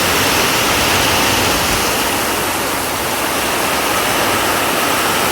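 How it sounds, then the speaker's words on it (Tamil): Heavy rain pours down on a highway in a dense, constant, loud hiss with no breaks. "சரியான மழை மக்களே."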